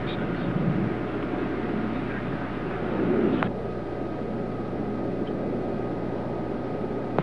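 Space Shuttle Atlantis rolling out on the runway at Edwards after main gear touchdown, a steady broad roar of wind and rumble heard from a distance, with a brief swell and a faint voice underneath.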